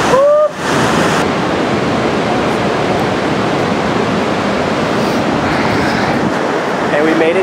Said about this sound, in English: We're at the base of the falls, and just look at that water right there.